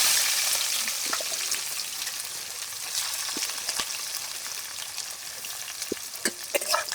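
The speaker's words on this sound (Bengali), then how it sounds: "এখন দিয়ে দিচ্ছি পেঁয়াজ কুচি।" Chopped onion spits and sizzles in hot oil with bay leaf, dried red chillies, whole garam masala and cumin, a moderate crackling hiss broken by sharp clicks and a few utensil taps toward the end.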